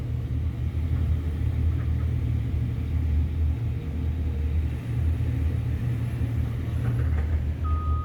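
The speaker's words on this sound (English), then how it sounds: "The backhoe's moving to the cut." Backhoe moving toward a cut at a dump site, its heavy diesel engine giving a steady low rumble throughout, with a faint high tone near the end.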